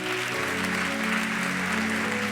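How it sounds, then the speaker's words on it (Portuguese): Church congregation applauding after a Bible reading at an evening service, a steady, dense wash of clapping filling the room for the whole stretch, with no pauses and no voices standing out. "dê um aplauso."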